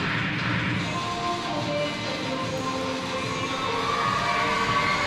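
A crowd cheers and shouts steadily and loudly through a competitive cheer semifinal at Wakefield, the roar sustained without a break and not covered by any speech.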